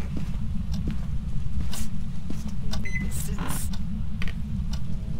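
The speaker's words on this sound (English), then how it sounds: "It was a microwave beep." A short electronic microwave beep rings out once, mid-level, in the video game Phasmophobia, over a steady low ambient rumble with faint scattered clicks and thumps.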